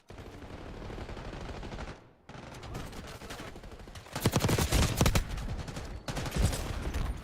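Rapid automatic gunfire in Call of Duty during a CDL Champs Grand Finals match, OpTic vs Surge: sustained bursts with a brief gap near two seconds, then louder, denser volleys that keep going almost to the end.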